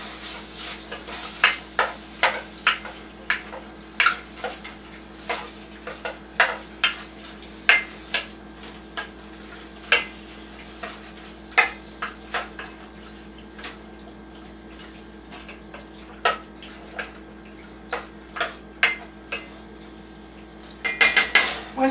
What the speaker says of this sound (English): You will carefully mix all of the ingredients together.